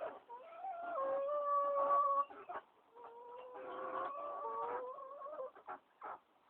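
Chickens give drawn-out, wavering calls and clucks at close range while being herded into their coop for the night, the sounds coming in two long stretches with short broken noises between them.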